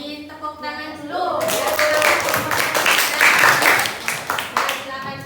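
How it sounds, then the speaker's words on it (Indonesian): Group applause fills a classroom during a primary school teacher performance exam: dense, steady clapping from many students starts after a brief opening and carries on for several seconds before thinning out, with a voice speaking faintly beneath it. "lainnya beri tepuk tangan dulu"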